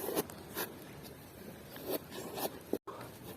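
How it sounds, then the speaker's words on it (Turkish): A tent zipper is pulled shut in several short, scratchy strokes at close range, separated by brief pauses, with quiet rain-time background and no talking. "Çadırın fermuarını kapatayım ben."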